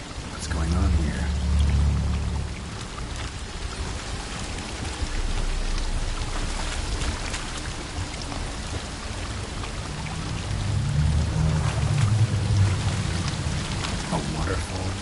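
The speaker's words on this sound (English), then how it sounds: "A waterfall flowing upwards." A waterfall flowing upwards in the video game The Witcher makes a continuous rushing, splashing roar, like heavy pouring rain. It stays loud and steady, swells at times, and voices can be heard over it now and then.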